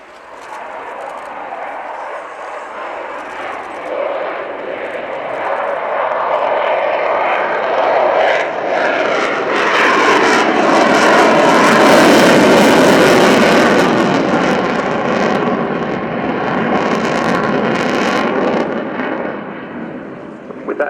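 A Su-27 jet fighter flies slowly past at an airshow with its air brake deployed, a loud, broad engine roar that swells toward a peak midway and holds before easing slightly, with no talking.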